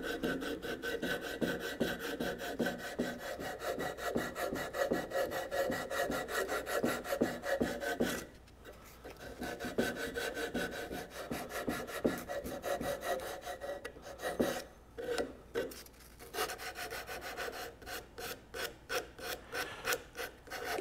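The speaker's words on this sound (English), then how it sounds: "There's no sense you all just kind of watching me sand with sandpaper." Steady back-and-forth rasping of sandpaper on a wooden thoroughbred rocking horse, close and continuous with a rhythmic stroke pattern, brief pauses around the middle and toward the end, no talking.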